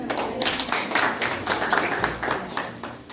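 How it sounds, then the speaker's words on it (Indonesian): A classroom of students claps together in sustained, dense applause that stays steady and fairly loud for a few seconds, with no voices standing out. "Berikan aplaus."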